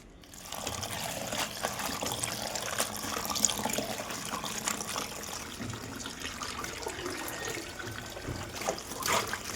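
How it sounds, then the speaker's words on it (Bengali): Running tap water splashes and trickles steadily as bathua greens are washed in a kitchen sink, a continuous close, moderately quiet wash with small splashing variations. "খুব ভালো করে ধুয়ে নিচ্ছি।"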